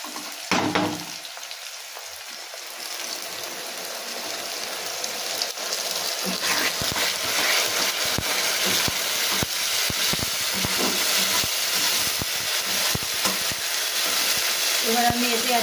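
Onions and spices fry in a hot pan for a chicken curry, with a loud, steady sizzle and intermittent scraping stirs, after a brief quieter moment at the start.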